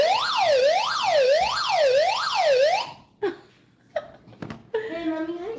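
An electronic siren wails in rapid rising-and-falling cycles for a few seconds, then stops; brief voices and a shorter siren burst follow.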